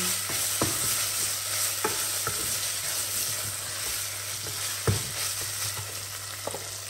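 Sautéing in a pan while cooking cowboy beans, a steady close sizzle with sharp spatula scrapes and taps against the pan at irregular intervals, no speech.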